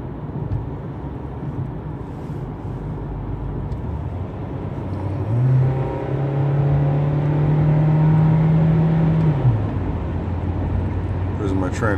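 A car drives along a highway passing a big truck, steady road and engine noise building as a deep drone swells during the overtake and then fades back, with someone talking over it.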